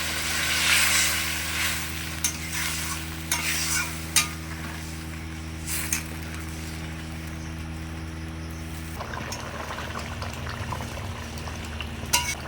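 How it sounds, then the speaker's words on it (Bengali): Water goes into a Bengali fish curry in a pan, with steady simmering and stirring scrapes throughout, then a sharper gush of added water near the end, all close and with no talk. "এবার দেব জল"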